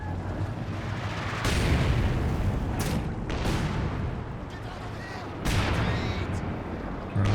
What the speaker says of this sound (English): Here comes the second Werfer strike.